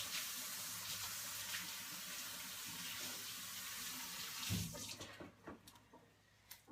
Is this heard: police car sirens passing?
no